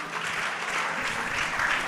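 Audience applause for a tribute to García Márquez at a literary program, a dense, steady patter of clapping hands lasting under two seconds at moderate distance, with no one speaking.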